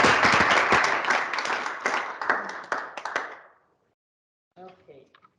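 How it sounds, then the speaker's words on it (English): Scattered audience applause after an academic presentation on religious education: a few pairs of hands clap in loose rhythm, thinning and fading out, then brief silence before a voice begins speaking. "So could we perhaps give an applause?"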